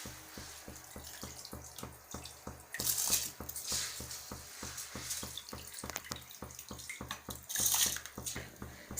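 Rice added to boiling water for Hyderabadi biryani, heard as quiet bubbling with soft rhythmic ticks and two louder splashing surges as the grains pour in, close and without talk.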